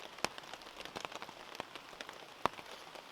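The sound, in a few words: rain falling on a wild campsite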